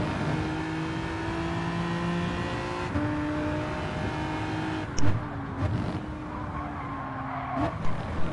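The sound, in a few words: race car spinning out in a racing video game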